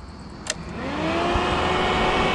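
A stunt motorcycle, either a DT 125 or a CBR 600, revs up as its idle screw is turned, the engine note climbing steadily and holding loud and close after a brief click.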